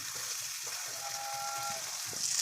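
Paneer pieces fry in hot oil with a soft, steady sizzle and faint crackle, low and close, with no talking.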